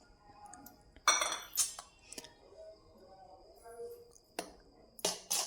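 Henna paste being mixed in a bowl, with scattered scraping and clinking strokes of a utensil against the bowl in short bursts between quiet gaps, close by, with a voice speaking faintly in between.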